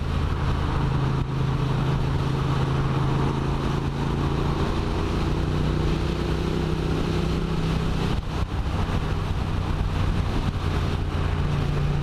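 A Triumph Street Twin motorcycle rides at speed on a highway, its engine a steady droning hum thick with wind rush, holding a fairly even pitch, with a brief dip near the end and no talking.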